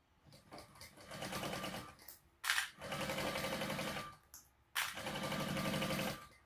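A sewing machine runs in three close bursts, basting a seam with an eighth-inch allowance on a sling bag, its rapid needle chatter starting and stopping with short pauses between runs.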